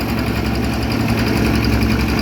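A rice threshing machine's blower fan runs loud and steady, a constant rushing drone with a low mechanical rumble beneath it.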